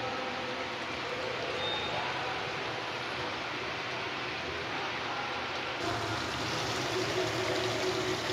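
Hot water poured into a pot of chicken kosha curry gives a steady rushing, gurgling pour close by, with a sizzling shift partway through and no talk.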